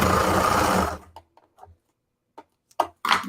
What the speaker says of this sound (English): This is a serger that's so easy to use